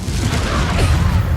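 A Confringo blasting-curse explosion in the video game Hogwarts Legacy: a heavy, continuous booming rumble with crackling debris, loud and sustained, and no talk over it.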